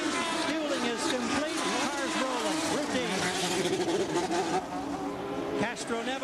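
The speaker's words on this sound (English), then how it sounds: "when you listen to that new engine, it's got some bark" IndyCar race cars with a new engine roar past at Kentucky during a 2003 race, loud engine notes sweeping and dopplering under continuous commentary, with overlapping passes throughout.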